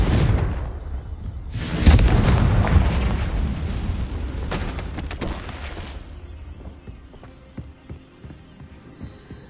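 Confringo spell blasts in Hogwarts Legacy: a sharp crack followed by a loud, booming explosion with rumbling debris, then another burst and a decaying crackle fading out.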